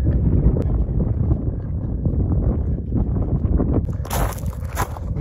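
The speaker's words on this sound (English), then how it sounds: "it is really windy" Strong wind buffets the microphone outdoors at Port au Choix National Historic Site in Newfoundland, a continuous loud rumbling roar with gusty fluctuations and no one talking.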